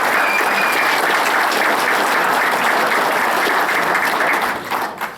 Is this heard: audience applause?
yes